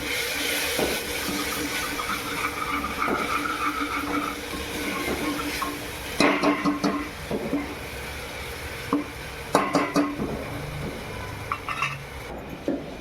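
Garam masala frying in a pan for a village-style chavli rassa bhaji, a steady sizzle with repeated scraping stirs and metallic clanks of a spatula against the pan, loudest in bursts partway through.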